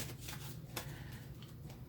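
Tarot cards shuffled by hand in a quiet room, a soft steady riffling and rubbing with a few sharper slaps, faint and close, with no voices.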